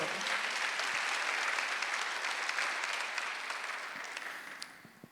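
Congregation applauding during a Korean Sunday church service, a steady wash of clapping that fills the room and fades slightly at the end.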